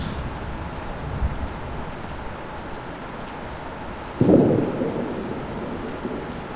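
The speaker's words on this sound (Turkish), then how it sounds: "Ee, yağmur yağıyor." Rain falls steadily with a rumble of thunder rolling in partway through, a soft wash of rain under a brief louder boom, heard from indoors at moderate level.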